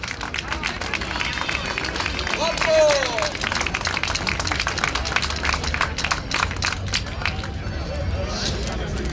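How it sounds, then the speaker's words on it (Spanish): Sustained applause from an audience at an awards ceremony for a Zaragoza hiking club's walking league, dense steady clapping throughout with crowd babble beneath. "un aplauso"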